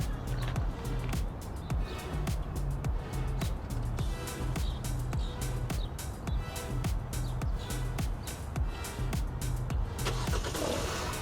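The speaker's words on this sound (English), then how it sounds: "And here you go, the car is running." A 2016-2020 Hyundai Tucson engine started remotely by key fob, settling into a steady idle rumble nearby with outdoor ambience and faint chirping birds.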